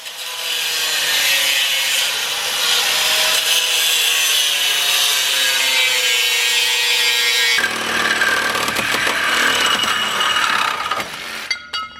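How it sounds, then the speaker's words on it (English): A Milwaukee Torch reciprocating saw blade cuts through metal on a Lexus GX470, a loud continuous buzzing grind with a sudden change in tone partway through. "the Milwaukee torch blade It's pretty legit. cuts through metal like rubber"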